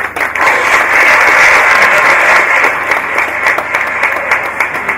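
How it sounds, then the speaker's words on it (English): Audience at the NSE 2019 X-Kathon breaks into sustained applause, a dense, steady wash of many hands clapping that holds loud for the full stretch before easing slightly toward the end. "Round of applause for that."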